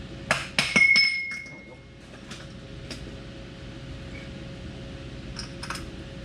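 A metal socket clinks and taps against a stuck bolt during a snug-up job, with several sharp metallic knocks early on, then sparse lighter clicks over a low steady background hum.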